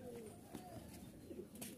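Pakistani teddy pigeons coo softly in a loft in Rajshahi, faint low murmuring calls repeating under quiet background noise, with a few brief higher chirps.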